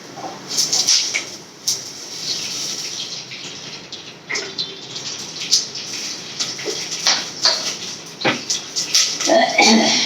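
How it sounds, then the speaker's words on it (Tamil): Cooking oil goes into a hot, dry pan while an anchovy curry is being made, producing a steady bright hiss with scattered crackles and pops close by. "சட்டி காஞ்சிடுச்சு எண்ணெய் ஊற்றிக்கலாம்"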